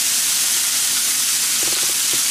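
Rib eye steak searing in a cast iron pan with Worcestershire sauce, a loud continuous close-up hiss and sizzle with a few faint crackles, no voices.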